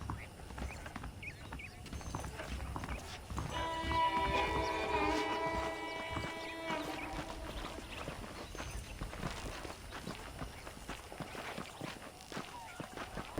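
Horse hooves clip-clop steadily over a busy Red Dead Redemption game soundscape, with a bright musical shimmer rising briefly in the middle and background noise throughout.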